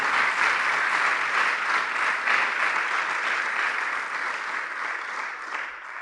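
A church congregation giving a sustained round of applause, a dense, even patter of many hands clapping that carries on for several seconds and eases slightly toward the end.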